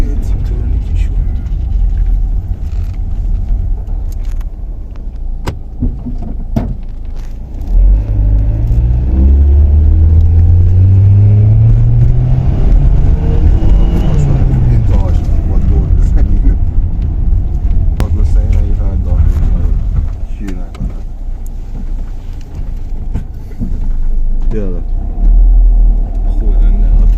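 A car's engine pulls hard and climbs in pitch while its automatic gearbox, held in Tiptronic manual mode, steps through gears on a street test drive. Close, loud rumble with audible drops between shifts.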